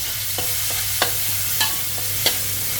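Chili and garlic stir-frying in a little oil with a kitchen extractor fan running, a constant hum and hiss under four distinct spatula scrapes spaced roughly half a second apart.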